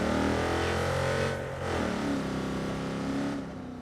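A car driven in the video game Watch Dogs 2 hums with a steady engine drone that dips briefly, then revs back up, loud and close with no talking.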